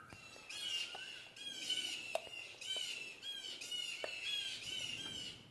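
Birds squawk outdoors in repeated harsh, raspy calls in a steady rhythm, fairly close and clear, with occasional small clicks and knocks from nearby handling of parts during a landscape light repair.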